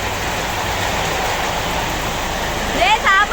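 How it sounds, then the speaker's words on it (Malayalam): A thick, continuous roar of heavy rain fills the space, and a voice speaks briefly over it near the end. "നല്ല മഴയാട്ടോ"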